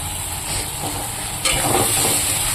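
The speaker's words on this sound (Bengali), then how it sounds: "এবার আমি মশলাটাকে ভালো করে কষিয়ে নেব" Loud, close hiss of spice masala paste frying in hot oil, swelling suddenly midway as the paste is stirred, with a thick steady sizzle filling the moment.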